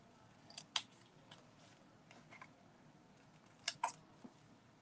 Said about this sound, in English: I'm going to fussy cut this out, but on this one I'm cutting straight lines